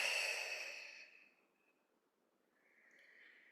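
A deep, breathy exhale during a yoga vinyasa practice, loud at first and trailing off over about a second and a half, followed by a softer airy breath sound near the end.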